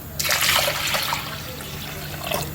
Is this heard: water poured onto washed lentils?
yes